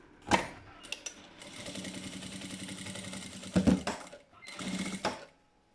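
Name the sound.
sewing machine stitching a seam on a purse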